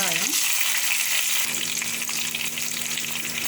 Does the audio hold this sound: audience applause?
no